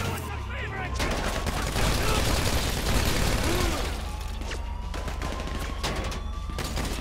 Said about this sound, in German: Von rechts kriegen wir gerade derben Beschuss.